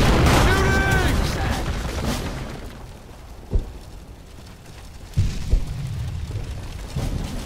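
Gunfire and explosions in the World War II shooter game Brothers in Arms: a loud early barrage, then scattered distant booms and shots under battlefield noise.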